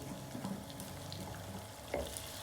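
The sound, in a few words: tomatoes and green chili frying with onion, garlic, ginger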